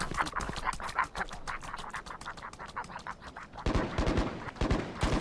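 Rapid gunfire in Valorant, a fast rhythmic string of sharp shots, mid-distance and steady, then a louder burst of shots near the end, with no talking.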